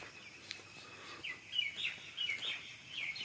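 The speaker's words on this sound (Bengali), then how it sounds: "শুধু পাখিদের ডাকাডাকি" Birds chirping and calling in a quiet rural paddy field, a few short tweets and brief song phrases rising over soft background hush, with no talk.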